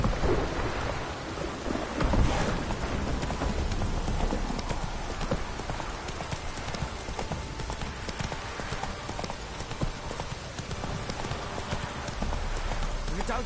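Hoofbeats of Geralt's horse Roach in The Witcher 3, a steady clip-clop over a constant wash of rain with a thunder rumble, and a voice speaking over it.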